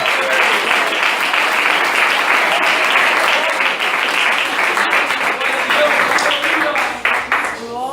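Church congregation applauding Jesus after a sermon at a Brazilian youth gathering, dense steady clapping filling the room for several seconds before fading toward the end.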